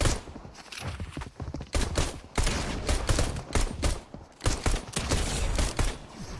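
Rapid bursts of gunfire from a Fortnite match, loud and close, firing in quick clustered volleys with short gaps between them over several seconds.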